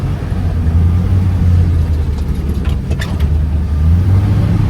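Skid steer loader driving off-road around a pond over sticks, a steady low engine drone close by with a constant rumbling hum and a few faint clicks, loud and unbroken.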